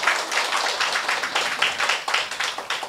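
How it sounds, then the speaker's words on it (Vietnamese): An audience applauds a newly ordained Buddhist monk at a Dharma talk, a dense, steady crowd clapping with many overlapping hands throughout, fairly loud and close, with no voices. "Quý vị cho thầy tràng pháo tay."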